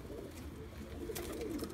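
Tippler pigeons coo softly inside a loft, a low steady murmur of cooing under a constant background hum, with no talking.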